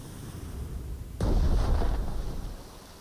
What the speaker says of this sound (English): So let's fire a torpedo at this one.